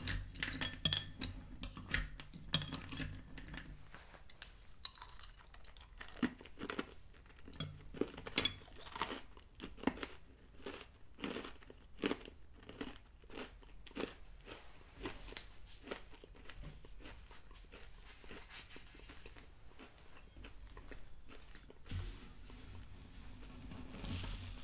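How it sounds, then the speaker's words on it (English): Close, crisp crunching of Kellogg's Cracklin' Oat Bran cereal being chewed, a long run of sharp, irregular bites in a very quiet room, with no talking. "This cereal just has a lot of crunch."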